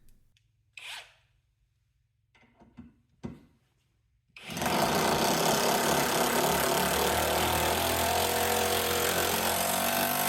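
A Hyper Tough hydraulic impact driver on speed 3 driving a screw: a few soft clicks and handling noises, then a loud, continuous, buzzing rattle that runs unbroken to the end.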